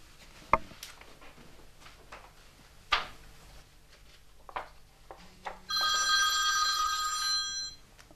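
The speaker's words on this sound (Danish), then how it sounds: "Det var Freja, der ringede." A telephone bell rings for about two seconds near the end, loud and trilling, after scattered knocks and clatter in a quiet room.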